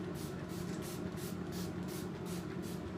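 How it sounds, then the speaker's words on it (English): Hair spray hisses steadily from a can onto hair during braiding, a close, continuous aerosol spray with soft pulsing bursts and no talking. "you can just go back over that with the spray"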